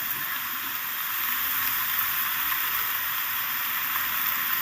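Vegetarian spinach curry sizzles and fries steadily in a pan as it is stirred, a loud continuous hiss close by with no talking.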